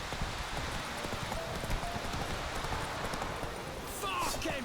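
Roach, a horse in the video game The Witcher 3, gallops with a rapid, steady clip-clop of hooves over game ambience, and a voice speaks briefly near the end.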